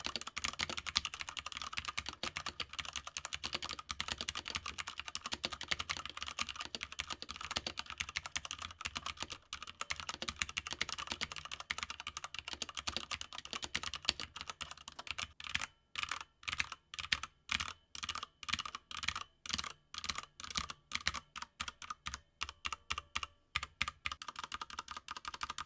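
Typing on an ASUS ROG Falchion wireless 65% keyboard with rattly, factory-lubed stabilizers, a dense stream of keystrokes that breaks into separate sharp clacks toward the end, close and fairly quiet, with no talk.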